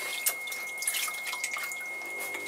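Water drips and trickles faintly on a potter's wheel during plate throwing, with soft, irregular splashes and no talking.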